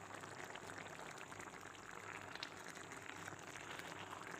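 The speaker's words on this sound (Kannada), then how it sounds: "ಚೆನ್ನಾಗಿ ಕುದೀತಾ ಇದೆ." Amaranth greens and moong dal kootu, salted, boil in a pot with a faint, steady bubbling hiss that holds evenly throughout, with no voices.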